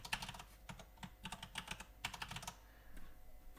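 Quick, light clicks of a computer keyboard as a password is typed in, close and fairly quiet, in uneven bursts of keystrokes that taper off near the end.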